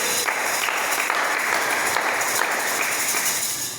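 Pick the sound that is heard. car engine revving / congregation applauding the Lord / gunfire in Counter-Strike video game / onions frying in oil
congregation applauding the Lord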